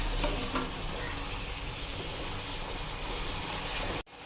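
Tomatoes and mint sautéing in a pan: a continuous, close sizzle of frying that cuts out briefly just before the end.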